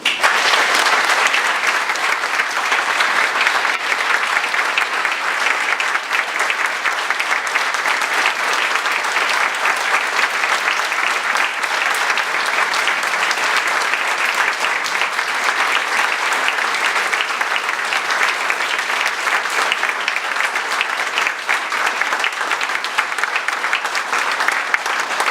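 Sustained audience applause at an extraordinary municipal council meeting in Viry-Châtillon, a loud continuous wash of many hands clapping that holds steady for the whole stretch without a break.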